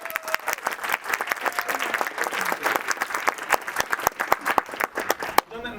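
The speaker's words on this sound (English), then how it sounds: "can I get a thunderous round of applause if you've ever come to a CIA improv show before?" Loud applause from an improv show audience, with many overlapping claps in a dense, lively burst that carries on for several seconds before cutting off.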